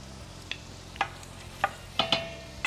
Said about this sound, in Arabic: شوية بصل شوية ثوم خلوا يتقلوا مع بعضهم